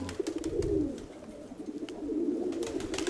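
A pigeon coos in low, rolling phrases, close and fairly loud, with a short pause between bursts and light scratchy noises around it.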